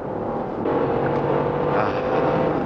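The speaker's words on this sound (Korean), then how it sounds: "좀 달릴 때 RPM을 높게 쓰면 이런 정도의 소리가" A Genesis GV70 engine revs at high RPM while driving, a steady loud hum that swells slightly midway, heard from inside the cabin with no talking.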